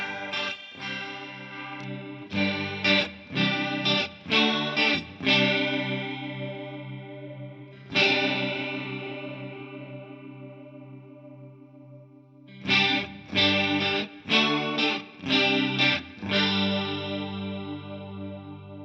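Instrument tone run through a TC Electronic TonePrint TriChorus modulation effect, giving a lush, wide, shimmering sound; two bursts of quick notes separated by a long sustained, decaying chord, with no talking.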